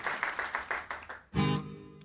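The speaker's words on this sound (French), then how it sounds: "On applaudit d'abord, s'il vous plaît." Audience applause at a live music performance, a short burst of clapping starting after some rhythmic tapping, fairly close and fading quickly.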